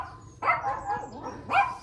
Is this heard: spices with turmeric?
no